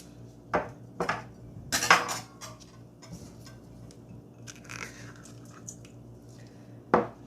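A spoon clinks and scrapes against a bowl while sugar and yeast are mixed with milk for stuffed bread dough. There are a few sharp, separate knocks at irregular moments over a quiet background, with one last clink at the end.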